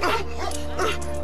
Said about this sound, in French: mais c'est qui aboie?